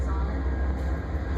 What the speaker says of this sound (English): Another long train. No carriage, though.